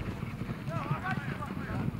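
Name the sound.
horses galloping during a kok boru match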